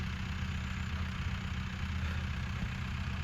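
A new Arjun 605 tractor used for sowing wheat sits idling, its diesel engine holding a steady, even low drone without a break.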